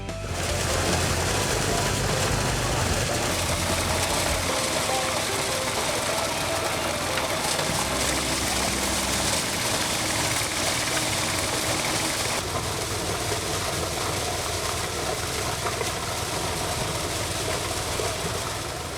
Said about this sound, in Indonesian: sudah ada mesin pemimpil jagung dengan memanfaatkan putaran poros pahat yang digerakkan oleh